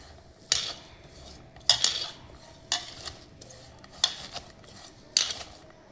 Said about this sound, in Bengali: আমি সব উপকরণ একসাথে ভালোভাবে মেখে নিচ্ছি।